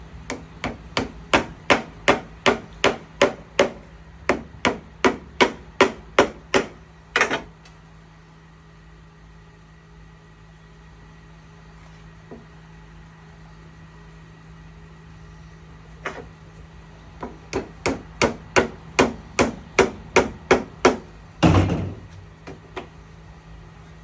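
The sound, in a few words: hammer tapping wooden pieces into a knife block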